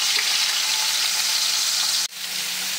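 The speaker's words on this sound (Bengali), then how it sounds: "প্রথমে আমি মাছগুলো ভেজে নেব।" Bata fish fry in hot oil, a steady loud crackling sizzle that runs continuously, cut briefly by a short break near the end before resuming.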